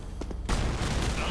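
A Liberty launcher fires in the video game TC2, a sudden loud burst after a brief lull with a dense, sustained blast tail.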